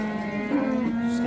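A young bull moos at a livestock market, one sustained, tonal low call lasting about a second, close and clear above faint background noise.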